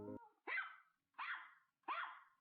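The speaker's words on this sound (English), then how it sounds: "I heard my grandma's dog begin to bark" Three evenly spaced barks from a dog, sharp and distinct with short silences between, following a brief tonal sound at the start.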